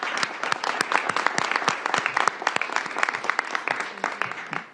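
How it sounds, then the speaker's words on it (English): A crowd applauds employers at a summer youth employment program event, with distinct individual claps forming a lively, fairly close round of clapping that carries on steadily. "let's give the employers a round of applause."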